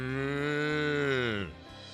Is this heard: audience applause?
no